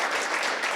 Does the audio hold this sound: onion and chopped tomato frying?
no